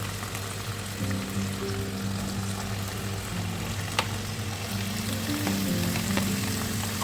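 Breadfruit pieces are dropped into boiling masala in a pan, setting off a dense, steady bubbling sizzle with a sharp clink partway through, close and continuous with no speech.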